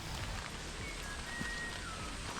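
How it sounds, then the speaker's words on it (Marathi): Rain falls steadily at Ghosalgad hill fort near Janjira, an even, close patter and hiss with no pauses, and a faint, thin whistle-like call drifts briefly above it. "फक्त पावसाचा आणि पक्ष्यांचा आवाज आम्हाला ऐकू येत होता"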